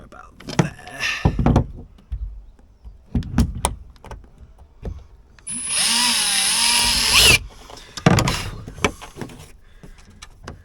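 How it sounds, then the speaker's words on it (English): A power drill boring a hole in fiberglass aboard a boat, running in one steady whine of about two seconds, close by, between knocks and handling noises, with someone talking before and after. "I'm going to do one hole and screw this in first."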